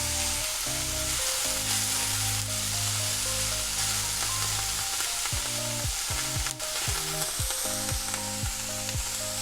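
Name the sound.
capsicums frying on a low flame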